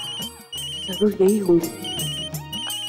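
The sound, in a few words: telephone ringtone ringing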